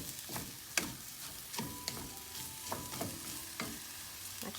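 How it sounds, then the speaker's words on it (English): Jasmine rice toasts in a hot pan while being stirred, giving a soft, steady dry sizzle broken by regular scraping strokes of the spoon, close and fairly quiet with no talking. "I'm gonna bring the temperature up, and I kind of want to toast the rice just a little"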